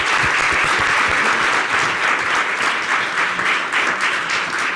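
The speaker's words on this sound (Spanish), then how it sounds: "Un aplauso." Steady, loud applause from a conference crowd, dense clapping that holds evenly from start to finish with no talking over it.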